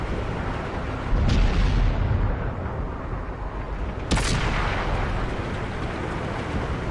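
Tank cannon shots in World of Tanks, two sharp booms a few seconds apart over a constant rumbling battle ambience.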